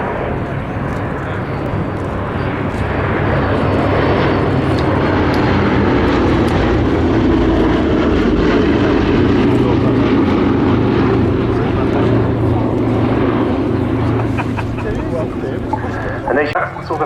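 Boeing B-17G Flying Fortress four-engine bomber in flight at an airshow, its propeller engines a steady loud drone throughout, with a voice talking over it.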